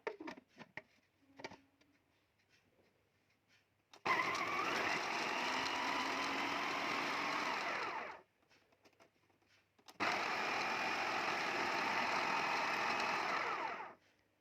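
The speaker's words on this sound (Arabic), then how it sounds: "ونص فنجان الخل وفنجان الليمون، ونضربهم بقى في الكبة" An electric chopper whirs loudly in two long bursts of about four seconds each as it blends garlic with vinegar and lemon juice. A few faint clicks and handling sounds come before and between the bursts.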